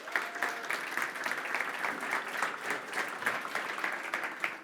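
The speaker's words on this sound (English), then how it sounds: "big hands of applause for Remco" An audience at a technical security talk gives a speaker a round of applause, many hands clapping in a steady, moderately loud wash with no voices over it.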